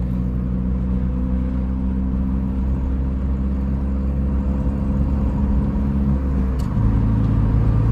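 A loud car engine drones close by with a steady low hum as it shifts gears at around 2000 rpm, its tone changing briefly near the end.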